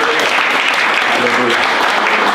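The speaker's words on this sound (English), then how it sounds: "Let's give a clap of" Church congregation at a homegroup service clapping loudly and continuously, a dense close burst of applause throughout, with a voice calling out over it.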